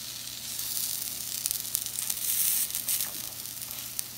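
Potatoes threaded on a stick sizzle steadily as they brown, a continuous close crackling hiss with no talking.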